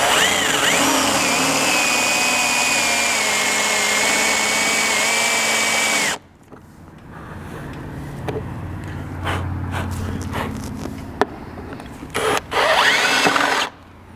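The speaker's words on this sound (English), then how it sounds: "go ahead and drill a pilot hole at each location" Power drill boring pilot holes through the roof of a Jeep Grand Cherokee for a roof rack install, a loud steady whine for about six seconds that cuts off, followed by quieter scraping and handling noises.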